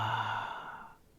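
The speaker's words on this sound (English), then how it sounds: "breathing in through your nose and breathing out through your mouth" One deep breath drawn in through the nose and let out through the mouth comes as a single soft, close sigh-like exhale that fades to quiet near the end.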